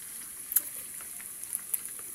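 Food browning in a frying pan gives a faint, steady sizzle, broken by a few soft scraping clicks as it is stirred.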